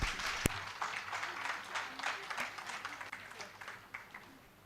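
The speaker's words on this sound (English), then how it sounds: "Let's give them a big round of applause." An audience at a symposium applauds in a short, moderately distant burst of clapping that rises and thins out over a few seconds.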